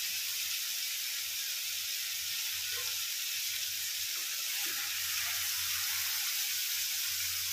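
Mushrooms fry in a pan with a steady, bright sizzle that runs throughout, joined by a few soft stirring knocks and low bubbling.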